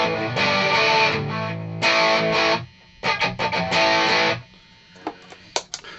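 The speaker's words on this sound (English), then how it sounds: "moving on to the distortion" A Les Paul electric guitar through a heavy distortion pedal plays chugging chords and short stabs, loud and near, with gaps of silence between phrases.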